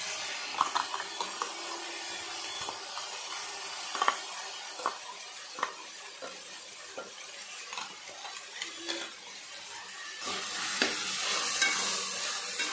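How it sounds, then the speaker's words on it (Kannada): Ground masala sizzles in a hot pan while vegetable pulao is being made, with a steady frying hiss, scrape-and-clink stirring and a louder burst of sizzle near the end. "ಇವಾಗ ರುಬ್ಬಿಟ್ಕೊಂಡಿರೋ ಮಸಾಲ ಹಾಕ್ತಾಯಿದ್ದೀನಿ"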